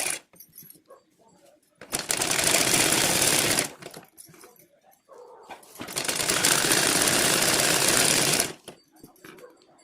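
Sewing machine stitching the sleeve of a chudidar top, running in two steady bursts of about two and four seconds, with quiet handling sounds and brief talk in the gaps.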